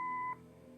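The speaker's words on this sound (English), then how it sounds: "Leave a message after the beep." Answering machine beep in the video game Kathy Rain, a single steady electronic tone lasting about a third of a second before cutting off to quiet hiss.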